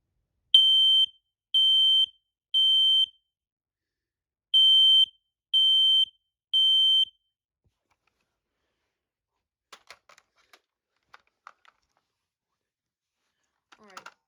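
A household smoke alarm under test shrills loudly in two bursts of three long beeps, then goes silent before a few faint clicks and handling noises follow.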